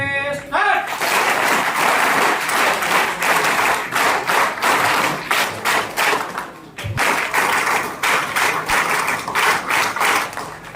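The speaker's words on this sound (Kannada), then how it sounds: "ಚಪ್ಪಾಳೆ" Loud, dense applause from the audience at a Dharmasthala-run de-addiction camp closing ceremony in Gokak taluk, sustained for about ten seconds with a brief dip midway and some voices mixed in.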